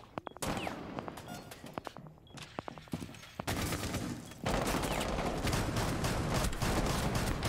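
Shotgun blasts amid a fast fusillade of gunfire, sharp repeated bangs in quick bursts, loud and close, with little talk.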